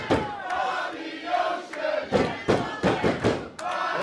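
An arena crowd at a wrestling match between Bobby Ocean and Dan De Man roars continuously, with surging cheers and scattered thuds, no voice standing out above it.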